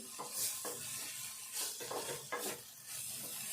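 Karam garjalu mixture stirred in a pan, with a spoon scraping the pan bottom in several distinct strokes over a soft sizzle of frying, close and moderately loud, no talking.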